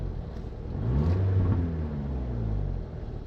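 Car engine with a misfire revving up and easing back, a loud close low rumble that swells, holds, and settles toward idle, with no talking.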